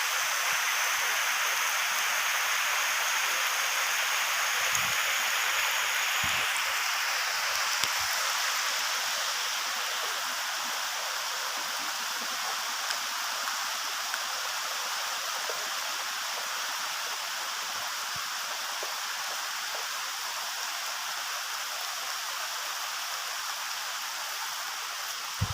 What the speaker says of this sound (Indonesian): Lagi hujan teman-teman.